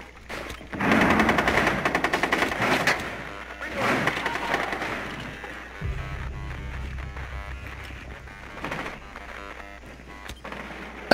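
Rapid automatic gunfire in the tactical shooter Rainbow Six Siege on the Favelas map in a hostage match: a loud burst of quick, evenly spaced shots, then scattered sharper reports over a low hum.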